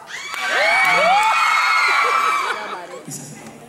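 A concert audience in a theatre shouting and cheering together, a loud sustained roar of many voices with whistles and whoops that swells and then fades away.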